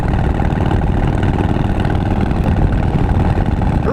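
A big bore Harley-Davidson Breakout motorcycle engine runs with a loud, steady, close rumble that stays constant throughout.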